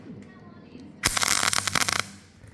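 A steel motorcycle jig being tack welded, producing a loud one-second crackling arc burst after a quieter lead-in with faint talk.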